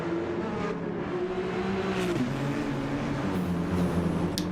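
Race cars, including a BMW, lapping the Nürburgring Nordschleife in a racing game, a steady, loud engine drone with shifting pitch and revving as cars run close together, with no one talking.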